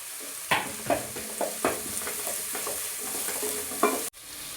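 Chopped vegetables frying in a pan with a pinch of salt are stirred: a continuous sizzle broken by several scraping, clinking spoon strokes, close up, then a sharp knock near the end, with no talking.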